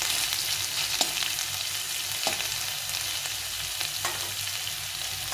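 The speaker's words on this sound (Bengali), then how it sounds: "এখন আদা আর লঙ্কাটা ভালো করে একটু নেড়ে নিয়ে আলুর সঙ্গে ভেজে নেব" Potatoes frying in a pan with crushed ginger and chilli give a steady, close sizzle, with a few sharp clicks and scrapes as the mixture is stirred.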